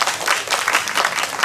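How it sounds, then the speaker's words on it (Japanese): A hall audience at a festival hayashi music concert, with taiko drums present, claps in a brief, dense burst of applause, close and fairly loud throughout. "はい、拍手。"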